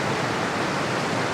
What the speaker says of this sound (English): Made it here to the waterfall,